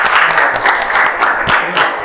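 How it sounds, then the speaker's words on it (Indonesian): Steady applause comes from a class of eighth-grade students in a classroom, with dense clapping that stays loud and even throughout. "Kita kasih aplaus untuk hari ini."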